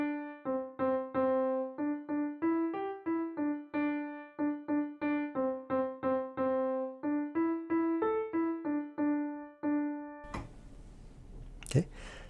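Right-hand piano melody of a Bollywood song, played as clear repeated notes in a steady rhythm for about ten seconds, followed by a brief burst of noise at the end.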